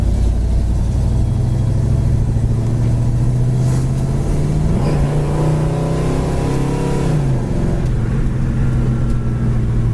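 A 1969 Chevelle Super Sport engine runs loud and close, a deep steady rumble that rises in pitch as the engine revs around the middle and then settles back down, with no talking.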